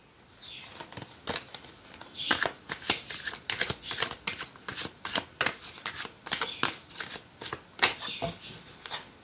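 Tarot cards being shuffled with a steady run of crisp riffling and flicking bursts, close and fairly loud, with no talking over them.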